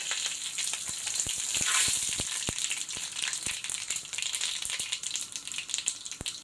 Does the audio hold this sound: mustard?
yes